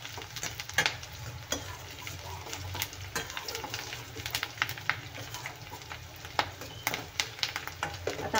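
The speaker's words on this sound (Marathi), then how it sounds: "कांदा आपल्याला तेलामध्ये गोल्डन होईपर्यंत भाजून घ्यायचा आहे। आता घातला आहे मी थोडासा कढीपत्ता," Onion and curry leaves fry in hot oil, cooking toward golden, giving a steady close sizzle broken by irregular scraping and clatter from stirring. No one speaks.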